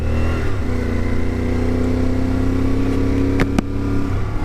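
A CFMoto Ibex 450 motorcycle cruises on the interstate at about 70 mph and 6,000 RPM, its engine droning at a steady pitch under constant wind rush, close and even throughout.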